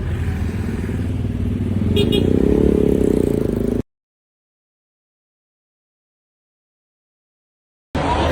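A motorcycle ride, with a steady mid-pitched engine drone that swells slightly and clatters briefly, then cuts to silence for several seconds before returning.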